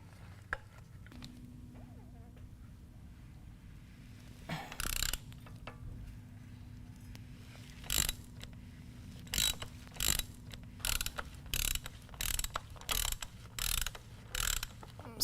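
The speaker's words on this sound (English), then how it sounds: "So take your ratchet, your 5/8 inch extension, and your filter wrench and remove your filter." A hand ratchet with an extension and filter wrench loosening the oil filter on a Harley-Davidson motorcycle, a few isolated clicks followed by a steady series of short, close ratcheting bursts in a quiet garage.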